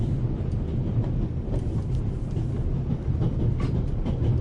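A train running in the video game The Raven Remastered, with a continuous low rumble and faint rhythmic rail clatter that stays steady throughout.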